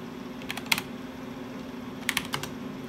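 Keys tapped on a computer keyboard at a vintage CP/M machine with a floppy disk drive, heard as two short bursts of quick clicks over a steady electronic hum, close, with no talking.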